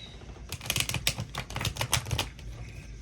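Cards riffle and snap in a quick burst of crisp flutters, close up and fairly quiet, trailing off at the end.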